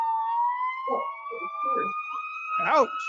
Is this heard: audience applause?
no